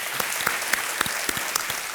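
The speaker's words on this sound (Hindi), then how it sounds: "इनका स्वागत किया जाए तालियों के साथ" Studio audience on a TV quiz show clapping to welcome a contestant's companion, a dense sustained burst of applause filling the whole moment.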